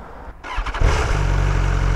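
A motorcycle engine cranks and catches, rattling as it starts, then settles into a loud, close, steady idle.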